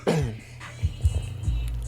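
A single harsh cough close to the microphone, followed by a few soft throat sounds and breaths.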